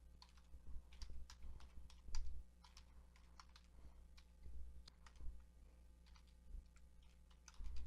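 Rapid, uneven bursts of keystrokes on a computer keyboard click quietly in a small room, pausing briefly between runs of typing, with no voices.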